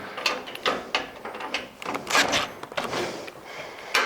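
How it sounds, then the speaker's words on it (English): Fasteners on a pickup truck overland bed rack being tightened by hand, producing a series of close ratcheting clicks and metallic rattles in irregular bursts, with no speech. "and then go in through with like Dane's doing now and tightening all of these things up."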